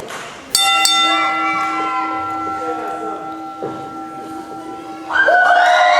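A wrestling ring bell rings out at a pro cruiserweight championship match, one sharp strike whose bright tone rings on and slowly decays over crowd murmur, with a commentator talking and a second bright ring near the end.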